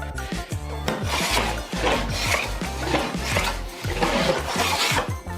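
An oak threshold piece is hand-planed or rasped toward a marked line, giving continuous rhythmic scraping strokes, loud and close, with steady back-and-forth repetition.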